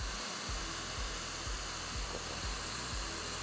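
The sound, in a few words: Dreame Hair Miracle hair dryer blowing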